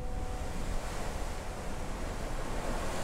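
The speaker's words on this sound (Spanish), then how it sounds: "un sonido que grabé en un día de lluvia con el mar embravecido golpeando las rocas" Rough sea on a rainy day crashes against rocks in a dense, continuous roar of surf and spray, broad and unbroken, with no voices present.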